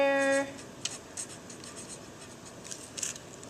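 A marker writing on a paper foldable, with soft scratchy strokes that come in short bursts, quiet and close, after a brief tone at the start.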